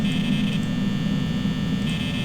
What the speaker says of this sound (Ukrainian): Вентилятор.